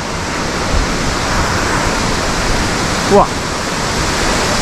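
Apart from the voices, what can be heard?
waterfall at Tiger Leaping Gorge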